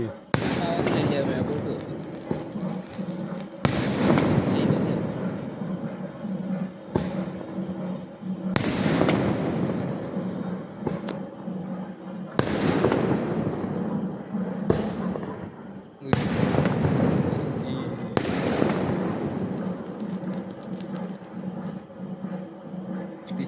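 Repeated fireworks bursts at an Orthodox church feast in Elakollur, several loud cracks spaced a few seconds apart, each followed by a crackling fade, with people talking in between.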